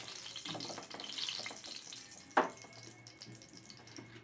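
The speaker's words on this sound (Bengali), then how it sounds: "দুটো তেজপাতা, দুটো শুকনো লঙ্কা আর কিছুটা গোটা জিরে দিয়ে দিলাম। ফোড়নটাকে একটুখানি ভালো করে ভেজে নিচ্ছি।" Bay leaves, dried red chillies and whole cumin seeds fry in hot oil, giving a steady crackling sizzle with one sharp pop partway through. No one speaks.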